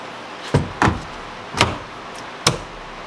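Four sharp clacks and knocks of a car steering wheel being pulled off its Works Bell quick release, spaced unevenly over a few seconds and heard up close with no talk.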